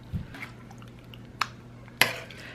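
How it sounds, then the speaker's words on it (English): Spaghetti squash being mixed into a meat mixture in a pan, a few faint scrapes and clinks of a utensil against cookware over quiet background hum. "I'm gonna mix it with my meat mixture"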